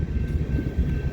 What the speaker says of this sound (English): BNSF coal drag